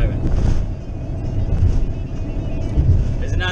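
Inside a moving car on the road, a low steady engine and road rumble runs throughout, with a voice speaking over it.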